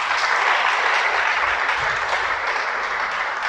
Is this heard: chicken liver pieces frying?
no